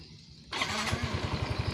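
A 2016 Yamaha Mio Z Special Edition scooter engine starts abruptly after a quiet moment and settles into a close, rhythmic idle with steady low thumping pulses.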